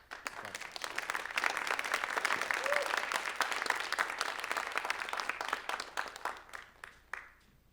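A room full of people applauds a group of readers at a school writers' week event, clapping swelling to a dense steady roar for several seconds, then thinning and fading out near the end.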